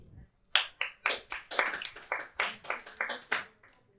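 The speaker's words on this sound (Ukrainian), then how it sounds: "Бачите, як радісно аплодують?" Stand-up comedy audience clapping in a small venue, a handful of distinct, fairly sparse claps in an uneven rhythm after a brief quiet start, close and moderately soft.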